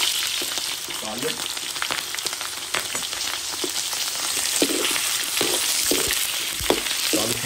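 Onions sautéing in hot oil in a pan give a steady, close sizzle with scattered crackles and occasional stirring scrapes throughout.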